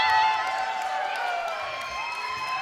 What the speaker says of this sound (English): Much to the jubilation of the crowd here